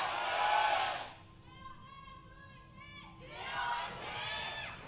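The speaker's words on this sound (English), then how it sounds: "Definitely a really big cheer for both teams" A stadium crowd at the OGN Stadium roars at an LCK League of Legends esports match between Longzhu Gaming and Jin Air Green Wings, a loud swell that drops away briefly and then rises again, with a tonal game sound in the lull.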